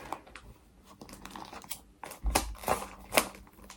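Scissors snip open a plastic-wrapped Amazon parcel close by, packaging crinkling and tearing in a few sharp cuts and rustles in quick succession.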